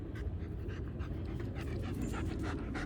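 A well-exercised, well-bred dog pants quickly and rhythmically at close range, its breaths quiet but steady and heard alone with no talking.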